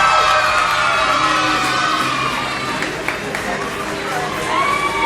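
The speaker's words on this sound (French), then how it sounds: "tonnerre d'applaudissements pour nos acteurs en herbe." An audience in a school hall gives a long, loud burst of applause and cheering for pupils who have just performed a play, a steady dense roar that holds throughout with no pauses.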